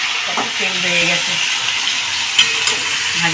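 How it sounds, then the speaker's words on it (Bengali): Meat frying in oil in a pan with green chillies, a steady close sizzling hiss running throughout while a voice murmurs faintly in the background. "মাংসটা আমার প্রায় ভাজাই হয়ে গেছে"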